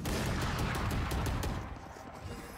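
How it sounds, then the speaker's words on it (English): Rapid gunfire in a shooting video game, a steady burst of repeated sharp shots at close range that stops after about a second and a half, leaving a short faint tail. "I'm shooting at someone's head and it goes somewhere else"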